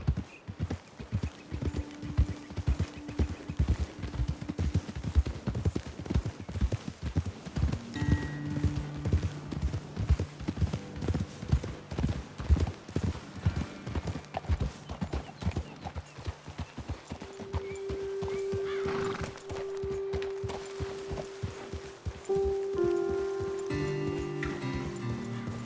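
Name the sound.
horses' hooves from video game Red Dead Redemption 2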